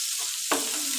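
Chopped tomatoes dropped into a pan of sizzling scrambled eggs, a constant close frying hiss with a brief sharp burst of sizzle as the tomatoes land, no talking.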